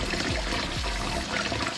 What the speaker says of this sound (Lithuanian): Ryžius reikia plauti su šiltu vandeniu, ne karštu, bet tokiu šiltu, stipriai drungnu tokiu, apie 40 laipsnių tokiu.